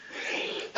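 A person sneezes close to the microphone during electronics board assembly, a breathy intake building for most of a second before a short, loud explosive burst.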